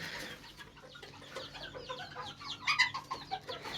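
Chickens in a coop cluck and chatter faintly at a distance, with a few sharper calls rising near the end over a low background hiss.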